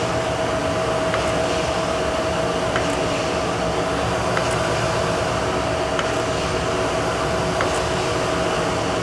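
Jakobsen hydraulic surface grinder running in plunge grinding mode, a steady loud mechanical drone with a constant hum and faint periodic ticks, no voices over it.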